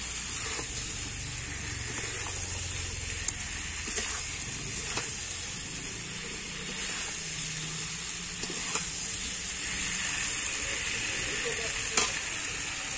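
Fried cauliflower and potatoes sizzle steadily in a pan while being stirred, a constant hiss and crackle broken by scattered scraping clicks of the spoon.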